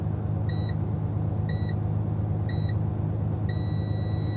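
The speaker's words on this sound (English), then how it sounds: "You'll hear this countdown. It's almost like a 10-second countdown." A Freightliner M2 106 truck sounds its light-check countdown: evenly spaced electronic beeps about once a second, the last one held longer, over a steady low engine idle.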